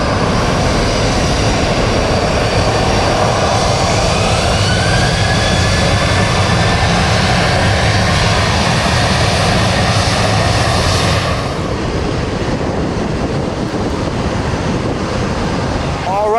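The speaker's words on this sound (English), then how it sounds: "This Bahamas Air 737-700 is going over to Nassau." A Bahamasair Boeing 737-700 jet taxiing at Fort Lauderdale airport, a loud continuous engine roar and whine with broad rushing noise that drops slightly in level near the end.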